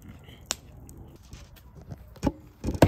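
Wood being chopped outdoors with an axe, a few sharp thuds and cracks, the loudest strikes coming near the end, with faint background noise between blows.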